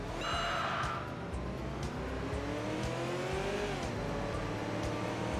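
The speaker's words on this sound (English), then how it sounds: "The new V8 exhaust sound, the smooth revving double overhead cam V8 in the Seville." A Cadillac Seville's smooth double-overhead-cam V8 revs steadily in the Enthusia Professional Racing game, its exhaust note rising and falling continuously amid tire noise, loud and close with no talk.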